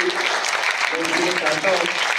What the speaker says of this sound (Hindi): तो आज के इस मौके पर एक जोरदार ताली